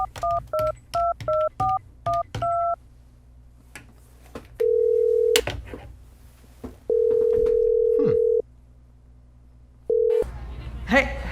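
A touch-tone phone dials a quick run of about eight paired beeps, then a steady ringback tone sounds in long, even pulses, three rings separated by pauses, with a brief burst of party noise at the end.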